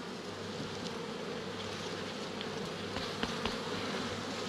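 A weak honey bee swarm buzzes steadily during a hive inspection, a dense, continuous drone of many wings close by, with a few louder passes as single bees fly near.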